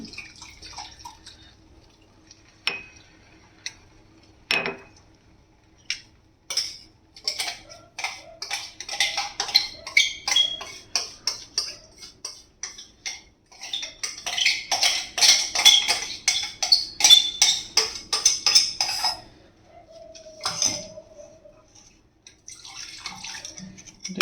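Paneer butter masala paste being stirred with water in a pan, a spoon clinking and scraping against the metal in quick irregular taps that cluster into a busy stretch midway, with soft liquid sloshing between them.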